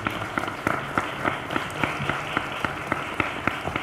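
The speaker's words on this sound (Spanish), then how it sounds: "también merecen un serio reconocimiento y aplauso" Applause from an audience at a book presentation for the Festival Internacional Cervantino's 50th anniversary, a steady wash of many hands with sharper individual claps standing out, continuous and fairly loud.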